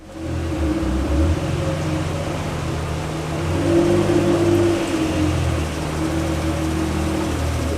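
Acura NSX engine running through a Mita Motorsports stainless steel catback exhaust, a steady loud drone with a rising swell in the middle, heard alone without talk.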